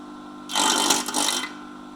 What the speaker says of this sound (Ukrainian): Ну Отак працює Бобер з українським мотором.